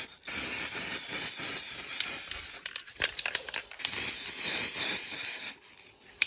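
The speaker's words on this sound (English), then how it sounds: "I didn't spray paint well there" An aerosol can hisses loudly in two long sprays, broken in the middle by short bursts and rattling, close to the listener, spray painting a 1/32 scale Fendt Favourite model tractor.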